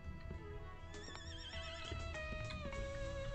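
A horse in a video game gives a loud, wavering whinny close up, with clip-clop hoofbeats and soft game background sound underneath.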